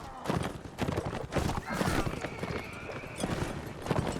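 Dense clip-clop of many galloping hooves from a Mamluk cavalry charge in Mount & Blade: Warband, loud and continuous, with clashing and shouting layered over a busy battle din.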